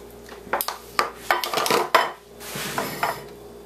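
Blueberry muffin batter being scooped into a muffin pan with a half-cup scoop, sounding as a series of sharp metallic clinks and scrapes against the pan at an irregular rhythm, close and fairly loud.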